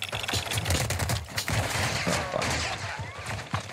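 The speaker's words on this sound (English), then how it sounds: "I'm gonna mortar them." A mortar strike in Call of Duty Warzone, with a rapid series of sharp impacts and bursts in irregular succession at close range, loud and dense throughout.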